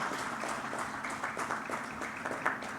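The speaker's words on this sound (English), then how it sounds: "Kindly keep the applause going" Faint, steady audience applause at a wellness foundation's annual summit, with continuous soft clapping heard from a distance and no break.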